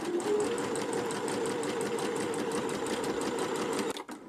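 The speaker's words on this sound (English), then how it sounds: "So I've selected the straight stitch, and to start sewing, change my speed slightly" A Pfaff Ambition 610 sewing machine runs a straight stitch, a steady close whirring with rapid needle beats for about four seconds before stopping abruptly.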